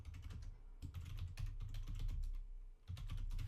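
Typing on a computer keyboard during a recorded lecture, a quick run of close, crisp key clicks in uneven bursts with a short pause near the end.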